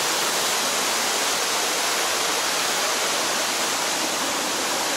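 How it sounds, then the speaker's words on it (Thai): A mountain stream and waterfall beside a hiking trail on Phu Soi Dao roar in a constant, loud broadband wash of rushing water, unbroken and close by with no voices. "เรากำลังเดินล้อเรียบลำธารไปนะครับสายน้ำตก"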